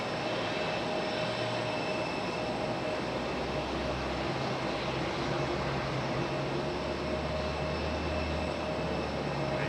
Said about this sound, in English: Spirit in the birthday cake, making its way in